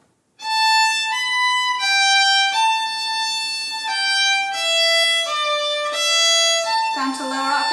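Close solo Manx fiddle plays the B part of Myr Shenn Ayr, a flowing line of bowed notes stepping up and down at an even pace. A voice comes in at the very end.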